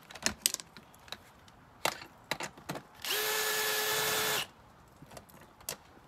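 Power tool driving a T40 Torx bit to loosen a side bolt on a 1988-91 Honda Civic EF hatchback during an oil pan swap: one steady whirring burst of about a second and a half amid scattered clicks and clanks.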